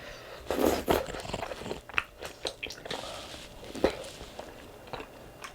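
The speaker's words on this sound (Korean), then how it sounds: "콘이 톡톡톡 터지니까 되게 매력있다" Someone bites and chews crunchy corn mayo alongside mala rosé tteokbokki, with close, irregular crunches and crackles, a couple of sharper bites standing out.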